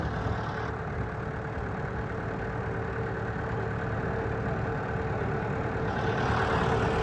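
A heavy Holland 3630 tractor engine runs steadily at a low idle at a village fair, a constant close rumble with no break for the full stretch.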